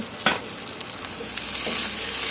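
Salted ash gourd pieces frying in a pan crackle and sizzle steadily up close, with a sharp clack of a utensil near the start and light stirring scrapes.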